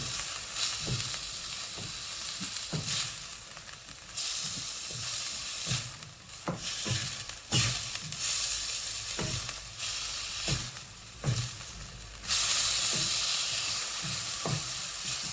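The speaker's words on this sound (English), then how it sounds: "Chuck the onion in. Keep it going, keep it stirring." Thinly sliced onions fry in a very hot pan for a chicken and black bean stir fry, a constant sizzle punctuated by repeated scraping thuds as they are stirred, swelling louder near the end.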